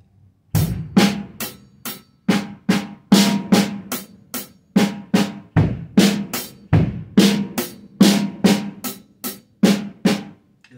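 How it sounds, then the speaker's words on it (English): Drum kit playing a 16th note triplet groove of kick, snare and hi-hat with ghosted snare notes, a steady rolling pattern of crisp hits and accents, close and alone. "you're going to play kick, right, left, kick, snare, hi-hat. Should be ghosted snare notes."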